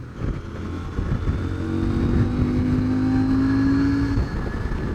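A 2022 CF Moto 800MT motorcycle roars steadily under way, the engine note climbing in a smooth rising whine before settling back, loud and close throughout with no talking.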